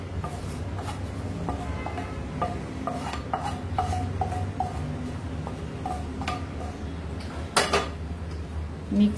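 Tempering being mixed into dadpe poha in a bowl: a spoon clinks and scrapes against the bowl in repeated light strokes, close and steady, with a louder knock near the end and no speech.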